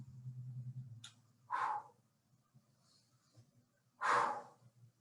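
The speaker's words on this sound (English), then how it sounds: "Notice my breathing." A person breathes heavily during a leg exercise, two loud, forceful exhales or gasps a few seconds apart, with a low hum and faint shuffling in between.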